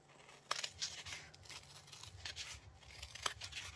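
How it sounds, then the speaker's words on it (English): Scissors snip through paper backing on a Christmas journal cover in a few sharp, quiet cuts, with faint rustling between them and no talking. "I'm just going to cut this off"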